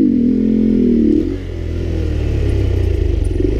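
A Honda Grom motorcycle engine rumbles loudly and close, its revs dropping as the rear brake is applied, then settling into a lower steady throb.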